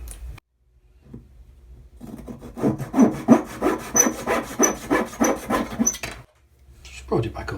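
A hand saw cuts a wooden dowel for a 1/84 scale HMS Victory model ship, with about a dozen close, rhythmic rasping strokes after a quiet start, ending abruptly.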